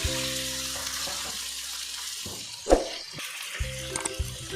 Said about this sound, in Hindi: अब चिकन को अच्छी तरह से आपने फ्राई करना है